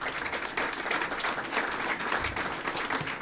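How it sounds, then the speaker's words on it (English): Audience applause at a baker's party for a Cakes for a Cause charity event, a steady dense wash of many hands clapping at moderate volume throughout, with no one talking over it. "So she deserves a big round of applause"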